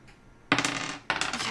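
Dice clatter onto a table twice during a board game, each roll a sharp rattling burst that quickly settles, loud and close with no voices over it.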